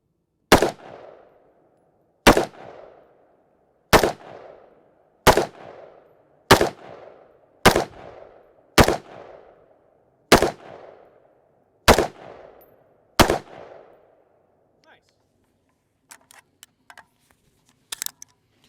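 Very short AR-15 rifle with no brace and a carry handle sight firing about ten loud, sharp single shots at an even slow pace, each with a brief echoing tail, followed by faint scattered clicks and quiet handling.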